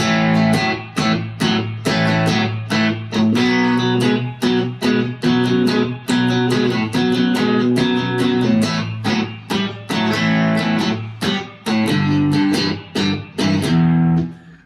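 A distorted electric guitar plays the chorus of a song with loud, chunky power chords starting on A5, strummed in a steady driving rhythm with short gaps between hits, alone and close.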